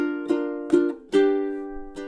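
Ukulele strumming measures 20 and 21 of a song: four separate strummed chords ringing out with clear sustained overtones, evenly spaced and played solo at moderate volume.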